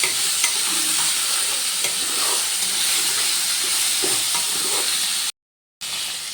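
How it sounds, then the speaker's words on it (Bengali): Vegetable stems for shukto frying in a pan, a loud continuous sizzle and hiss with occasional stirring scrapes, cut by a brief silent gap near the end. "আবারও একটু ভালো করে ভেজে নেব।"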